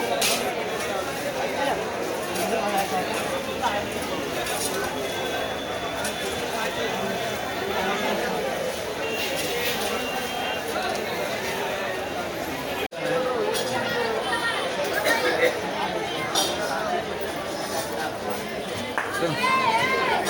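Dense crowd of shoppers fills Dadar market in Mumbai ahead of the Ganpati festival, a steady loud hubbub of overlapping chatter, footsteps and occasional clinks continuing throughout.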